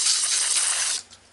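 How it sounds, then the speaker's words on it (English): Brake cleaner is sprayed from an aerosol can onto spark plug threads in one loud, close hiss lasting about a second that then cuts off. "I did spray that good with a brake cleaner"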